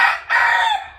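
A young Asil rooster, a stag, gives a single loud, close crow, one drawn-out call with a short break near the start, heard alone.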